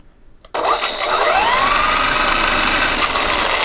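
The motor of a Kid Galaxy DEWALT Power Drive Ford F150 RC truck kicks on abruptly and runs at full speed, a loud, steady whine that rises slightly in pitch and holds for several seconds without talk.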